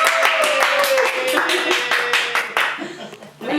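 Small group clapping in a rhythmic burst of hand claps, mixed with talk and laughter over the top, fading out near the end.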